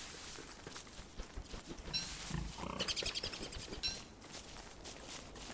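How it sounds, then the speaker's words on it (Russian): Pigs run around in the video game Don't Starve Together, giving faint grunts and squeals over scampering steps, quiet and intermittent within a soft game soundscape. "Свиньи бегают."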